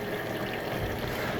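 Steel shot being rinsed under running water after soaping, a steady trickling and splashing wash that stays fairly even and close for the whole stretch, with no talking.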